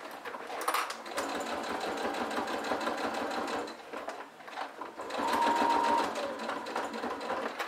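A sewing machine runs slowly and steadily along a seam of a fabric makeup pouch. It gives a close, continuous hum that dips briefly midway before resuming, and no one speaks.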